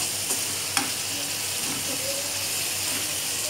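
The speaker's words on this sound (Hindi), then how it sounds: "अब हम इसे अच्छे से भून लेंगे।" Homemade garam masala and black pepper sizzling steadily in a pan of arbi masala gravy, a continuous close frying hiss with a few light stirring scrapes.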